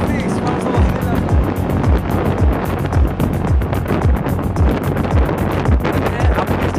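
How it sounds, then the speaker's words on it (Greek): Strong gusting wind buffets the microphone while riding a bicycle, a loud rough roar with rhythmic low thumps throughout, and a voice is faintly present beneath it. "Ο αέρας είναι απίστευτος. Έχει απίστευτο αέρα."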